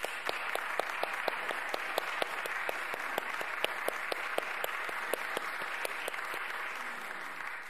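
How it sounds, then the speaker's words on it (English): Steady applause from a church congregation honoring veterans at a Sunday service, a continuous wash of many hands clapping with sharp individual claps standing out, sustained evenly throughout. "May we give them a round of applause and our thanks"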